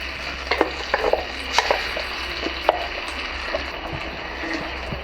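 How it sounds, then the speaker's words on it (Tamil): Ground paste stirred into turkey berry (sundakkai) kuzhambu as it fries in the pan, with a soft continuous sizzle under scattered spoon clicks and scrapes close by. "நல்லா கலந்து விட்டுடலாம்."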